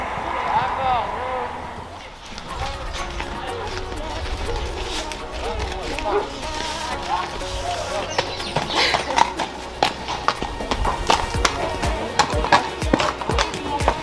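A horse's hooves thud in a steady running rhythm during a riding lesson over jumps, clear through most of the stretch, with a rider talking over the gait and occasional sharper knocks toward the end.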